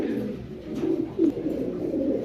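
A pair of Pakistani pigeons coo in soft, rolling, throaty calls close by, with one slightly louder coo standing out midway over a steady low murmur.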